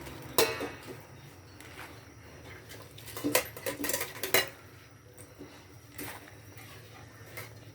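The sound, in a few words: adding pechay into cooking pot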